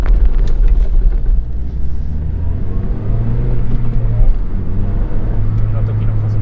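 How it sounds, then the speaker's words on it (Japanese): A Honda Civic Type R FD2 with an aftermarket muffler and limited-slip differential accelerates hard, its loud engine drone rising and rumbling steadily from inside the cabin while someone talks over it. "こんな時の加速がすごいですね。"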